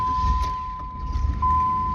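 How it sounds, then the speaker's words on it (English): A 1993 Cadillac Fleetwood Brougham is started: a steady electronic chime tone sounds while keys rattle, then a low engine rumble swells up close beneath it. "Now I'll just go ahead and start the car"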